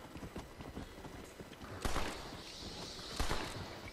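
Hooves clatter in a rapid rhythmic clip-clop, an undead horse running close by in the video game Undead Nightmare, with two louder whooshing bursts over the steady beat.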